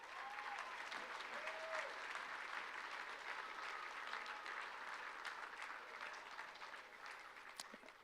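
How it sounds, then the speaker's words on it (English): Sustained applause from a sizable crowd, steady clapping that carries on for several seconds and fades slightly toward the end. "Everyone, another round of applause for the Lambert family."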